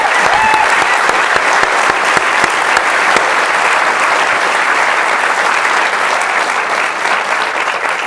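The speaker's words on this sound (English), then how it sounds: "Join me in giving our panel a great round of applause." Loud, sustained applause from a large crowd, dense clapping that holds steady throughout.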